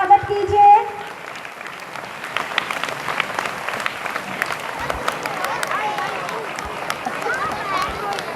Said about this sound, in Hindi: सर को अपनी तालियों के द्वारा स्वागत कीजिए।